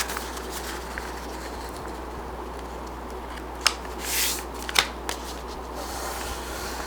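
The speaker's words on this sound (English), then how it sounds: "Then I'm going to fold it again like this." Printer paper folded and creased by hand, soft rustling and sliding with a few sharp crisp crackles and a brief swish near the end, close and quiet over a low steady hum.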